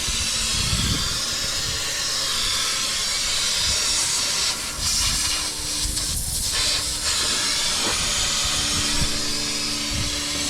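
A continuous loud hiss of air escaping from a truck's air line or compressor fills the space, steady and close, with faint clanks and knocks underneath and no talk.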